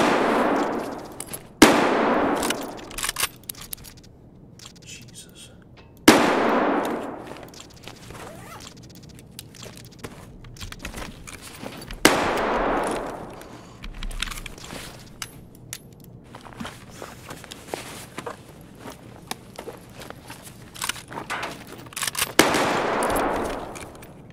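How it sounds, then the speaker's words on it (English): A VOG-25 grenade goes off in Escape From Tarkov, followed by bursts of gunfire; several sharp blasts with long decaying echoes stand out over scattered clattering and quieter rapid shots. "That's the greatest grenade I've ever had"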